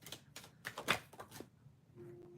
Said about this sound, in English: I'm just shuffling the other cards because I know I'm going to need them.